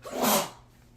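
A single sharp sneeze, close and loud, bursting out and fading within a second.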